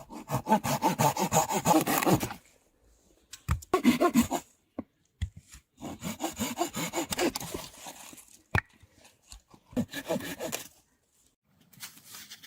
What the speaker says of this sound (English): Hand-sawing horizontal channels into the upright logs prepares them for a continuous top beam.